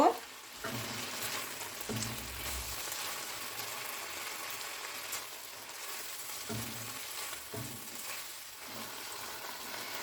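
Chicken frying in a pan makes a low, even sizzle for about ten seconds, with intermittent scraping and clinking strokes as it is stirred.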